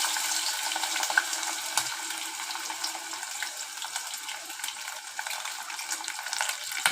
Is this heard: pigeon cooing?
no